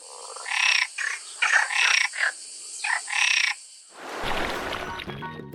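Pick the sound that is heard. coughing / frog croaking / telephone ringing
frog croaking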